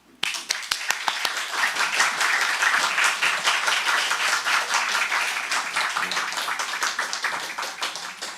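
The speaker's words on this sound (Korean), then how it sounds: "말씀을 전하신 목사님이 나오실 때 우리가 힘찬 박수로 맞아주시길 바랍니다" A church congregation at a Sunday service gives the pastor hearty applause, a dense, loud burst of many hands clapping that starts suddenly and holds steady, then begins to thin near the end.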